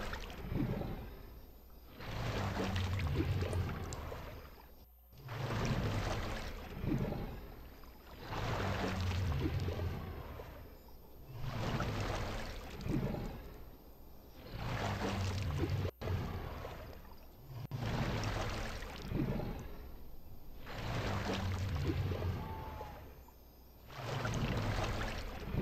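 In the survival game The Isle, a dinosaur drinks water with a steady run of wet gulping laps, roughly ten sloshing bursts about two seconds apart. Each one swells and fades with brief pauses between, and the sound stays close with no speech.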